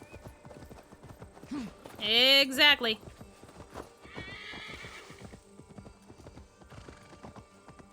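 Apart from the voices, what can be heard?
horse hooves clip-clopping and neighing in a video game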